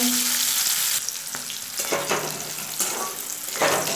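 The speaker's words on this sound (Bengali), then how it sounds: "এবার ফার্স্টে উচ্ছেগুলোকে ভেজে নেব" Bitter gourd pieces fry in hot oil with a loud, close, steady sizzle, broken by the scrape and clatter of stirring at intervals.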